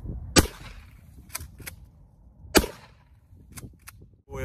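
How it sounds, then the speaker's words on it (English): A 12 gauge shotgun fires outdoors in two loud, sharp blasts roughly two seconds apart, with fainter cracks and rustling between them and no voices. "12 gauge shotgun"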